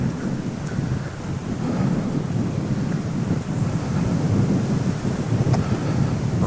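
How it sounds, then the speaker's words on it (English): Strong, steady wind at the edge of the woods, a continuous deep roar buffeting the microphone without letup, loud and close, with no talk. "Serious wind right here."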